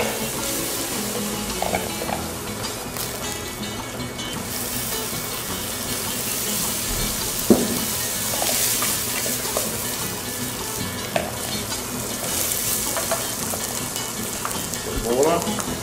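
Garlic browning in hot oil in a pan for arroz de carneiro do Ceará, a continuous close sizzle with occasional clinks and knocks of utensils, steady and fairly loud throughout.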